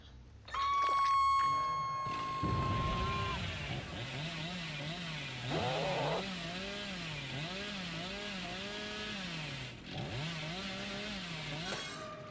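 A chainsaw in the Dead by Daylight horror video game runs for several seconds, its engine whining and revving up and down in a rolling wobble, loud and close amid other game noises.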